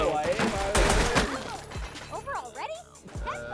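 Gunfire bursts and impacts crack through a match in the shooter-fighting game Black Stigma, loud at first and then sporadic, with game effects and an excited voice talking over them.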